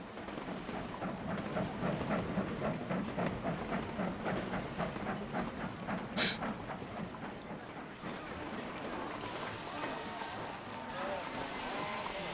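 A train runs in Sid Meier's Railroads, a railway management game, with a steady rhythmic clatter of wheels on track and a brief sharp click partway through. Someone talks over it throughout.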